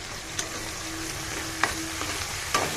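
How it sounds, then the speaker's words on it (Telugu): Chopped onions frying in a pan of oil for a mushroom curry, a steady soft sizzle with a few light clinks of stirring; no one speaks. "మంచిగా బ్రౌన్ కలర్ వచ్చేంత వరకు ఫ్రై చేసుకోవాలి."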